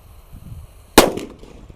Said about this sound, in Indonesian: Selanjutnya kita nyalakan mercon petir di dalam lubang tanah ya.